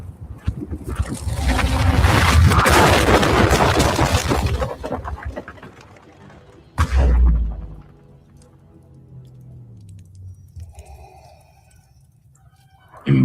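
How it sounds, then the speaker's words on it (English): A blaster blast explodes in a Star Wars video game scene, a long loud crackling roar lasting several seconds, then a second sharp boom and a fading ringing tail with faint tonal sounds, with no talking. "just before the blast struck him, slamming him into the strut once more like a broken doll"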